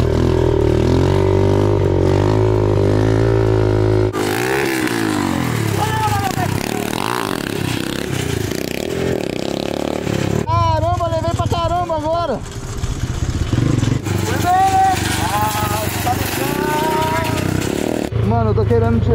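A motorcycle built for wheelie riding revs and accelerates nearby, its engine note rising and falling in bursts with some scraping and clatter, while people talk excitedly over it.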